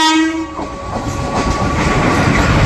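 The Tebhaga Express, a Kolkata–Balurghat passenger train, passes through a station: a loud horn blast at first, then a roaring rush of wagons with rhythmic clickety-clack of wheels on rails close by.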